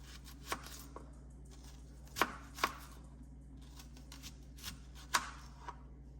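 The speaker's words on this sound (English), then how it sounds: "I'm just gonna start by cutting the onion up" A knife cutting an onion on a board for pico de gallo, several sharp, distinct chops at irregular intervals, close and fairly quiet over a low background hum.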